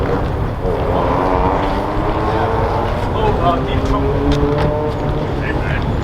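Loud aftermarket cat-back exhaust on an Infiniti G37 sedan fitted with a Motordyne Y pipe, a deep steady droning rumble heard from outside the car, with people talking over it throughout.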